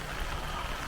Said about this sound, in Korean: 비가 오니까